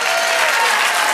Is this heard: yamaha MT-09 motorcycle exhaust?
no